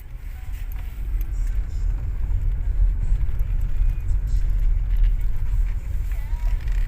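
A car drives through slow city traffic, giving a steady low engine and road rumble that stays close and even throughout, with faint background noise and no clear talk.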